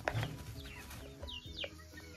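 Chickens and baby chicks clucking and chirping close by on a farm, a few short calls with small high peeps, no talking.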